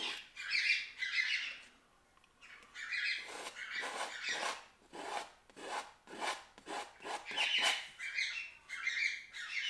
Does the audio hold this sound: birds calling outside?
yes